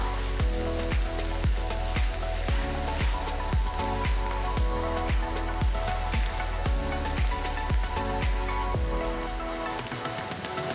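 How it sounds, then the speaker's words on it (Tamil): Onions fry in oil in a pan, a steady crackling sizzle with regular, evenly spaced strokes throughout. "இப்போ இந்த வெங்காயம் நல்லா ப்ரௌனாக வதங்கிடுச்சு"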